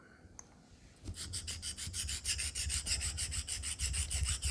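Steady abrasive rubbing of a Wade & Butcher straight razor blade during restoration, reshaping its bevel; a quiet start gives way to continuous rhythmic back-and-forth strokes, close and fairly loud.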